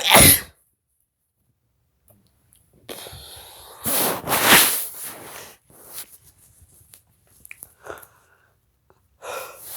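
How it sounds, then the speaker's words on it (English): A person sneezes several times, sharp explosive bursts separated by quiet breathing and sniffles, close to the microphone and without talk. "Now I'm sneezing"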